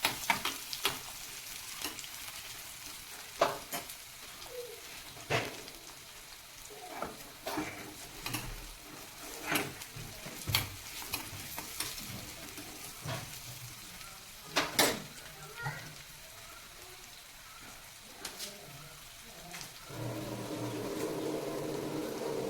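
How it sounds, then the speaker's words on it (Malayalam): Ginger and shallots fry in a pan while being stirred, giving repeated scraping knocks over a soft crackling sizzle that grows fuller and steadier toward the end, close and fairly quiet. "നന്നായി ഒന്ന് മിക്സ് ചെയ്ത് എടുക്കാം നമുക്ക്"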